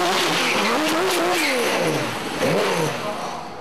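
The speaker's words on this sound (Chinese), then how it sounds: "用多喉直喷的引擎，果然是魄力十足。" An RWB Porsche built by Akira Nakai, its engine fed by individual throttle intakes, revs hard close by in a few rising and falling sweeps that blend into one continuous loud roar.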